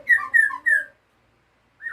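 A white-rumped shama sings three clear, whistled phrases in quick succession, then pauses before starting another note, close and bright.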